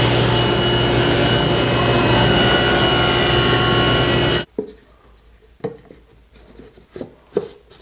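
A power saw rips through a wooden divider board, previously planed to half an inch, for a wall clock case. It runs as a loud, steady whine for about four seconds, then cuts off, leaving only a few light knocks and handling noises.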